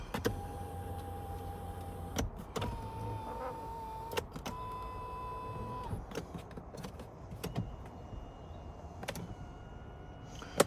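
An electric seat motor whirs in a 2019 Nissan Navara 2.3 dCi Tekna cabin, with several short humming runs that start and stop, separated by clicks and light interior knocks.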